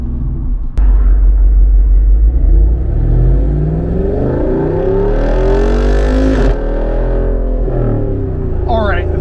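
A 2023 Jeep Wrangler 392's V8 engine revs hard and close, its deep exhaust rising and falling in pitch, with a sharp crackle and pops between revs while a voice talks over it.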